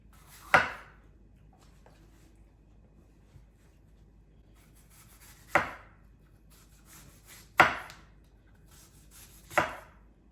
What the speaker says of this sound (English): once I'm done cutting these apples